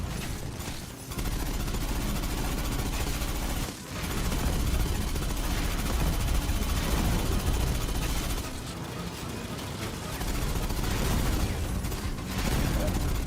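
Rocket fire and heavy weapon bursts roar in Aliens: Fireteam Elite 2, a dense and continuous barrage of blasts and explosions with brief dips, a voice faintly underneath.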